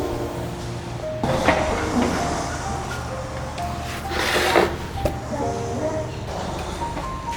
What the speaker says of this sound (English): all of these doors open up all the way